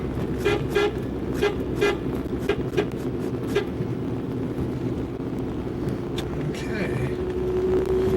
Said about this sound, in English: you have to beep to make sure the cars are coming at you